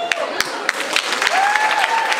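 Crowd applause at an Afrochella fashion show, starting as a few sharp separate claps and swelling into steady clapping, with a melodic tone rising over it near the end.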